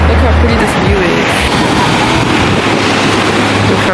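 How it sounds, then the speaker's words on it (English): Ocean waves at a Punta Cana beach, a loud, continuous wash of surf mixed with heavy wind buffeting the microphone, close and broadband throughout. "I hear them waves."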